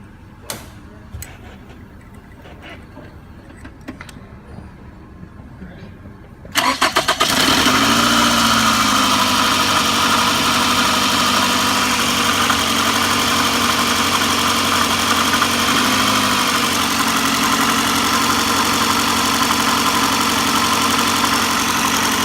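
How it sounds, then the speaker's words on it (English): A car engine cranks and starts after several seconds of quiet handling noises, then settles into a steady, loud idle with the fuel injectors ticking under the running engine. "listening to the injectors run with the engine running"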